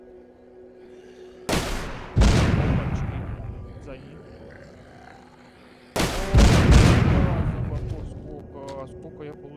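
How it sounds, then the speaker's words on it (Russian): Two heavy booming blasts from a rocket cannon in the video game The Walking Zombie 2, each with a sharp attack and long rumbling decay, with someone speaking briefly between them. "Ракетная пушка, нифига себе."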